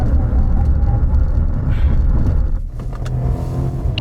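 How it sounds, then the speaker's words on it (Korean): Cadillac CTS-V sports sedan in a braking test, a loud steady road rumble and tyre roar that drops and fades as the car slows, with no talk. "이번에는 CTS-V의 제동 성능에 대해서 알아보겠습니다."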